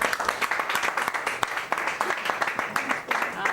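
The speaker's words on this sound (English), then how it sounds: "I rather think that round of applause was for Alex Easton and not for me" Sustained crowd applause greets a politician at a Northern Ireland election count, a dense, steady wash of many hands clapping that fills the whole moment.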